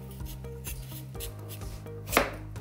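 A knife finely chopping peeled carrot on a cutting board, a run of quick, fairly close taps with one louder knock near the end, and no voices.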